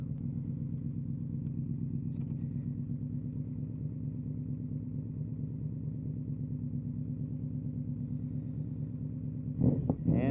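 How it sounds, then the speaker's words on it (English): Yamaha Royal Star 1300 V4 motorcycle, running rich and dumping too much fuel, rumbles steadily on a first pavement ride, a close, even engine drone throughout with a brief louder surge near the end. "I gotta say, that V4 actually sounds pretty good"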